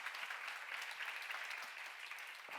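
A church congregation claps in a dense, even burst of applause that fills the whole short stretch, with no voice over it.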